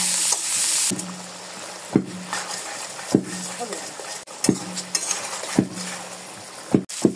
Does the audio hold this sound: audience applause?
no